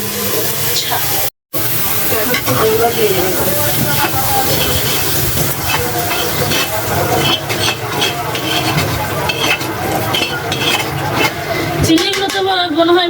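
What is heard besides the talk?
shrimp frying in oil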